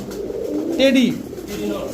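A male Saharanpuri pigeon gives a single rolling coo close by, with faint voices and background murmur around it.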